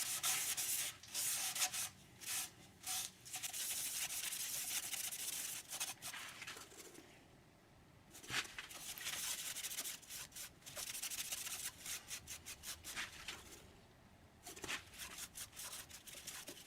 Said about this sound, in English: I'm going to try the wipe-on poly on this.